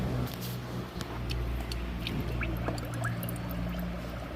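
Air bubbling up through water from a leaking tire valve held submerged, escaping past a worn o-ring at the threaded center; a steady, close gurgling trickle runs continuously beneath a low hum, with no talking.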